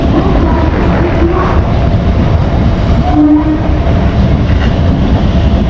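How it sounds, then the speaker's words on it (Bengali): Katwa–Bandel local train pulling into a station, a loud continuous rumble of wheels and carriages close by, with brief horn tones sounding over the roar. "কাটোয়া ব্যান্ডেল লোকাল ঢুকে পড়ছে।"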